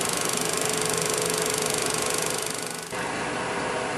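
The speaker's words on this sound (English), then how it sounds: "Same fingernail grind gouge." Wood lathe turning cocobolo with a fingernail grind gouge, a steady loud whirring hum with a brief dip near three seconds as the cut changes, no speech.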